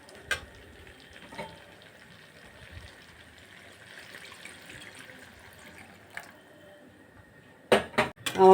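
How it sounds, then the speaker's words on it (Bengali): Water is poured into a pan of fried potatoes simmering for vegetarian dum aloo, a faint sizzle under quiet kitchen sounds, ending with a few loud clattering utensil knocks close by. "এবার জল দিয়ে দেব।"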